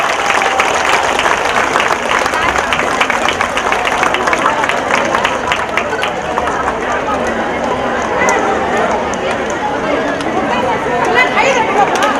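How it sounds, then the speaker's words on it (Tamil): Loud sustained applause from a gathered group of women's self-help group members at a community meeting, dense clapping throughout with some chatter underneath. "நல்ல பலமா கைதட்டலாமா? இன்னும் பலமா?"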